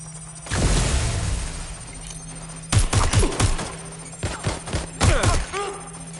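Bursts of gunfire from a Watch Dogs Legion firefight: a long sustained volley at the start, then several sharp clustered salvos with thuds and impacts, loud and close, with no talk over them.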